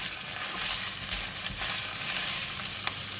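Bok choy stems and tofu frying together in a hot wok, a steady dense sizzle with a few louder crackling bursts, close and continuous with no talk.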